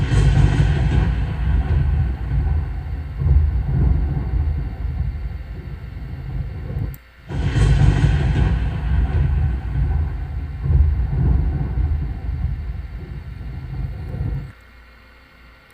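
Deep, sustained rumble of thunder rolling loudly in two long waves, with a brief break near the middle and a quieter low tail fading at the end; no voices.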